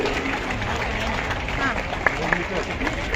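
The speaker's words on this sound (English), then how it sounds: "Please give them a huge round of applause." An audience at a school annual sports day applauds the winners of a 100 m race, a steady wash of clapping mixed with crowd babble and a few sharper claps, with speech over it.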